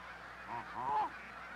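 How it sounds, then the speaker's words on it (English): Canada geese give a couple of faint honks, heard from a distance over a steady background hiss. "These students are studying Canada goose populations."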